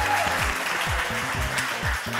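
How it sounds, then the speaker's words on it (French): A television talent-show audience claps for contestant David, a steady, dense burst of applause that fills the whole moment. "On l'applaudit très très fort."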